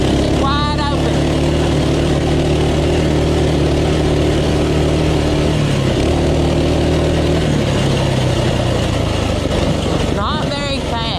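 A cheap Walmart pit bike engine runs wide open at full throttle on gravel and grass, a loud, steady, buzzing drone that holds throughout, with a voice talking over it.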